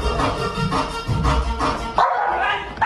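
A cartoon dog barks and yips in quick repeated bursts, loud and close, with a whimpering edge and no talk over it.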